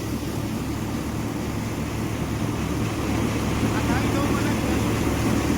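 A Mahindra 415 tractor powers a thresher during threshing season, a loud, steady, close mechanical drone with a low hum and wind-like rushing that stays constant throughout.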